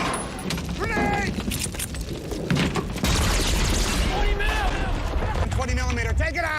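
Battle sounds from a Saving Private Ryan war scene: after shouted voices, a heavy grenade blast lands midway as a loud low boom, followed by continuing combat rumble under frantic yelling.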